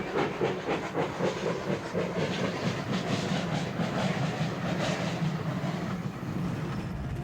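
Steam train rolling along, a dense hissing chug with rhythmic clickety-clack of wheels, steady and fairly loud throughout, fading slightly at the end.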